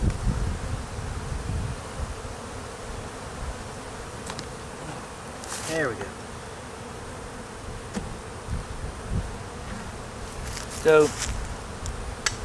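Constant close buzzing of honeybees around a hive being relocated, a steady drone that continues throughout, with someone speaking briefly a couple of times over it.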